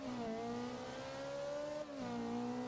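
A Ferrari F430 Scuderia's mid-mounted V8 pulls hard from a start, its rising engine note climbing steadily through one gear, a brief dip at a shift, then climbing again, loud and close with no voices.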